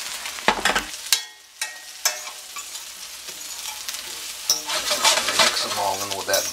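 Potatoes and pre-cooked onions dropped into a pan with butter, stirred with a few scraping knocks, then a rising close sizzle of frying that fills the rest of the stretch.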